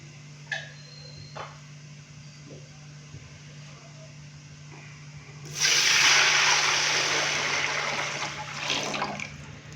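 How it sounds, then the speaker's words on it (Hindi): Water gushes into a pot of rice with lightly fried whole spices, a loud sustained pour that begins midway and tapers off after a few seconds, preceded by a few small clinks. "5 गिलास अभी मैं इसके अंदर पानी डाल दूंगा"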